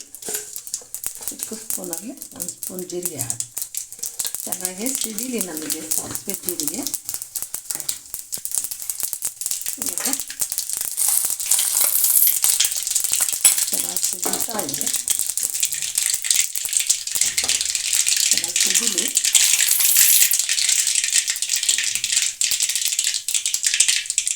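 Mustard seeds crackle and pop in hot oil in a kadai, a dense continuous sizzle with rapid rattling spits throughout, while a voice talks intermittently over it.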